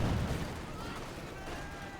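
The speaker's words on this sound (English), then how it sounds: "Grenade off there, very nice shot." A grenade bursts in a Company of Heroes 2 World War II strategy match between German Wehrmacht and Soviet forces. A loud blast hits at the start, then rumbling, crackling battle noise continues.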